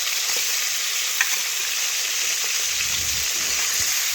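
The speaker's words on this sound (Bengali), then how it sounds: "এক পাশ মাছের ভালোভাবে ভেজে নিয়েছি, এখন আর এক পাশ দেখুন আমি উল্টে নিচ্ছি।" Silver carp pieces frying in oil in a kadai give a steady, close sizzle with a soft crackle throughout, and a few faint scrapes and taps as the fish is stirred and turned.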